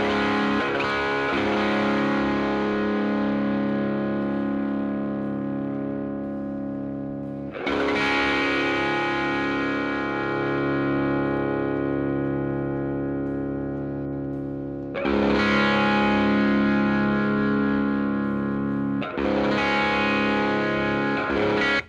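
Electric guitar played through the Mixwave Monarch amp simulator plugin, with long sustained chords rung out and struck again about four times, thick and full with effects, alone with no talk.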